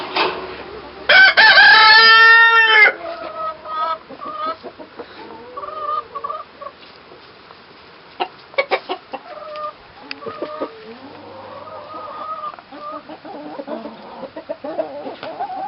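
A rooster crows loudly and close by, followed by scattered clucks and squawks from a mixed yard flock of chickens and guineas on a homestead, with intermittent sharp calls throughout.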